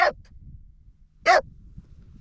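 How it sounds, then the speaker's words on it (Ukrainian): Two sharp dog barks at an auto and motorcycle salvage yard, one at the very start and another about a second later, fairly close, over a low rumbling background. "Собака."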